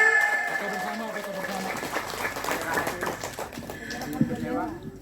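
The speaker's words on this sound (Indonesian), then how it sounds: "Boleh tepuk tangannya." Scattered clapping from a crowd for a traditional royal archery troop, Kerajaan Pajajaran Walet Basura of Serang Banten, with voices and chirping, bird-like tones running underneath.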